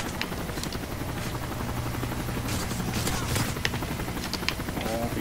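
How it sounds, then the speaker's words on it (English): Helicopter in the video game Call of Duty: Modern Warfare 3, a steady rotor and engine drone running throughout amid game noise, with faint gunfire bursts mixed in. "Helicopter."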